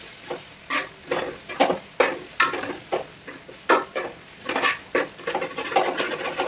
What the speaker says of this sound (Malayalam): സവോള നല്ല എണ്ണയ്ക്കകത്തിട്ട് നന്നായിട്ട് വഴറ്റുക.